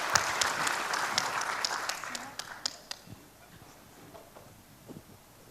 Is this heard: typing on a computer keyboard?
no